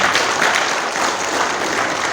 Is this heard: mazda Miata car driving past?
no